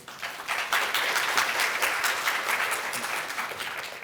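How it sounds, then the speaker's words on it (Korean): Steady applause from a conference audience welcoming a presenter at a Python developer talk, dense clapping filling the room at an even level throughout with no voices. "그럼 큰 박수 부탁드리겠습니다."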